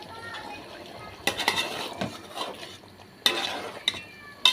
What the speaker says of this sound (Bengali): মাংসটা মোটামুটি কষানো হয়ে আসছে।